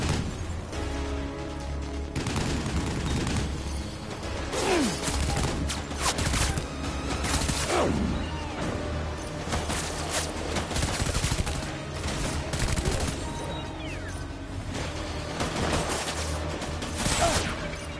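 Mounted gun firing during a Death Stranding firefight, continuous loud rattling bursts with sharp impacts and mechanical clatter layered over a steady rumbling game backdrop for the whole stretch.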